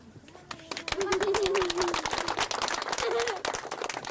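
A crowd claps at Leoncio Escobar's 60th birthday party in dense, lively applause, with voices and a brief whistle-like cheer mixed in.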